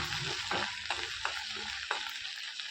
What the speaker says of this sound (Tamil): வெண்டைக்காய் மொறுன்னு வதக்கணும்